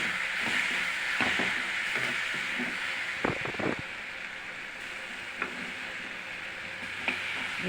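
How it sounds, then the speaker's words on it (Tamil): Tomatoes and coconut fry in a pan for chutney, giving a steady close sizzle throughout with occasional scraping stirs, including a brief cluster of strokes midway. No one speaks. "தக்காளி ஓரளவுக்கு வதங்கிடுச்சு"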